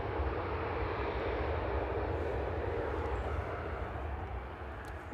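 An EasyJet airliner in United Nations livery at Manchester Airport produces a steady, fairly distant engine roar that holds throughout and eases slightly at the end, with no talking.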